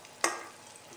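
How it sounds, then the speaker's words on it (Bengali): Potatoes frying in oil in a wok give a single short burst of scraping and sizzling near the start, which fades quickly into a faint, steady background hiss. "আলুটা খুব ভালোভাবে ভাজা হয়ে গেছে, এবার আলুগুলোকে আমি কড়া থেকে উঠিয়ে নিচ্ছি।"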